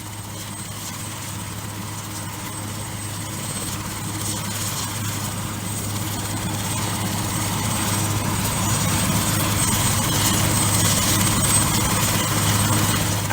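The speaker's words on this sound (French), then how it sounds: "Plusieurs hélicoptères travaillent ensemble pour combattre la catastrophe." Firefighting helicopters in Chile drone on continuously with a steady low rotor hum and engine whine that grows gradually louder over more than ten seconds, with no voices.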